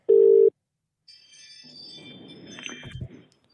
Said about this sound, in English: Can you hear it ringing